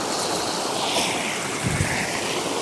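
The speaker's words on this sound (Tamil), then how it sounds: "ஒரு தண்ணி ஓடை ஒன்றை பார்த்துருக்குறோம்" A mountain stream in cold Norwegian hills rushes steadily, a broad hiss of flowing water heard close and continuous, with no talking.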